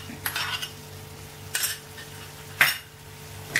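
Roasted coconut tipped into a pan and stirred for a murungakkai pulikuthi podithooval, with a few close scrapes and clinks of a spoon against metal at irregular intervals over a faint background hum.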